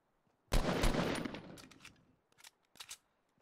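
Gunfire in the video game Fortnite: a loud close burst of rapid shots that tails off over about a second and a half, then a few fainter separate shots follow.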